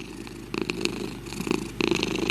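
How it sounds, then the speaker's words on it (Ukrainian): A domestic cat purrs steadily and close up, a low rumbling vibration made in the throat, with brief louder swells as the rhythm pulses. "кішка муркоче вібрацією голосових зв'язок, розташованих глибоко в горлі"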